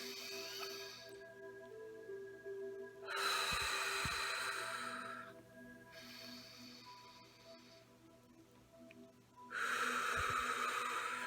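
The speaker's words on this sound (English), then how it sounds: "let's all take 2 deep breaths in" A group takes two deep breaths in together, each a long, loud, airy inhale standing out against a faint steady hum, the pair spaced several seconds apart.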